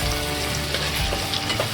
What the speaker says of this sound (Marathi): हे 2 आपण कापलेले कांदे फोडणीत टाकले